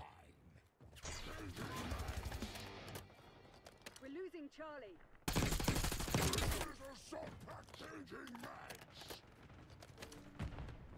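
Gunfire in the Black Ops 6 beta video game, with bursts of automatic shots and mechanical weapon clatter, including one loud sustained volley midway, while a player talks over it throughout.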